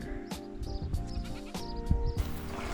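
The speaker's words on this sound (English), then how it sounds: "It's a mountain goat." A mountain goat bleats in repeated short, nasal cries over a busy outdoor background on a hiking trail, fairly close with several calls in quick succession.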